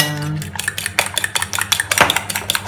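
A spoon clatters and scrapes against a bowl while spices are mixed for a potato, cheese and hotdog dish, giving quick irregular clinks close by with a low hum underneath.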